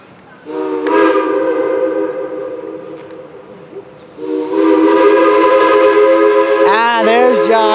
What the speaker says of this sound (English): The past transportation and modern side by side with the diesel and the steam locomotive.